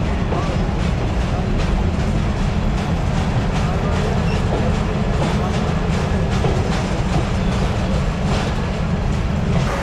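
A Dhaka commuter train rolls into Kamalapur railway station with a dense, loud continuous rumble of wheels and carriages, some rhythmic clatter throughout, heard from on board.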